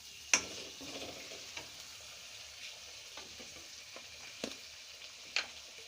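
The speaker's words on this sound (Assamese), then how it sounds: "কেৰাহীত দিয়াৰ পিছত মই ভালকৈ এইখিনি মছলাখিনি লাগিবৰ কাৰণে অলপ সময় লৰাই থাকিম" Liver is stirred with masala in a kadai: a soft frying sizzle runs throughout, broken by a few sharp scraping clicks of the spoon against the pan. Nobody speaks.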